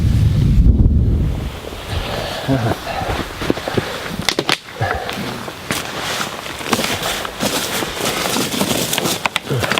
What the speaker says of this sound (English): wind hitting into me